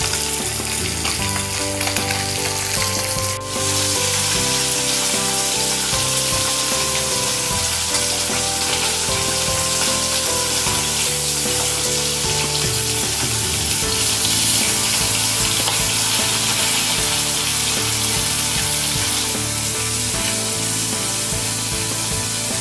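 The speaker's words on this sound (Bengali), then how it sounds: "এবার আমি সবকটা মাছ ভেজে তুলে নিলাম।" Chapila fish frying in hot oil with a steady, loud sizzle that runs unbroken throughout, with occasional crackles and no voices.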